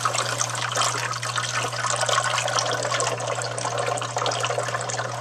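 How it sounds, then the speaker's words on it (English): Tap water runs steadily through a Filtrete filter into bottles, making a continuous soft hiss and trickle with a low steady hum beneath, fairly quiet and close. "And you can see down here that the bottles are starting to fill up."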